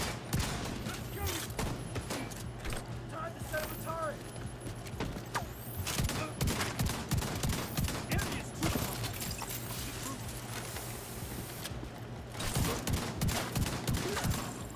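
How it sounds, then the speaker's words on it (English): Rapid bursts of gunfire from The Division 2 crackle almost without pause across the whole stretch, dense overlapping shots with a few brief lulls and a steady low background hum. "Why is this gun shooting at me?"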